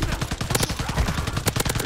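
Rapid bursts of video game gunfire crack and rattle throughout an online shooter match, with dense overlapping shots and automatic fire in quick succession.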